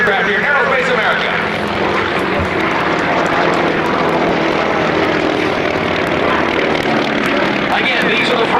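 WWII propeller warplanes such as a Japanese Zero, F4F Wildcat and Corsair fly past at the Aerospace America airshow in Oklahoma City, giving a loud, steady engine drone that fills the whole stretch, with a crowd and voices underneath.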